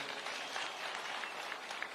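Crowd applause at a thanksgiving rally attended by the president in Siaya, a dense wash of many hands clapping, steady and sustained across the short stretch.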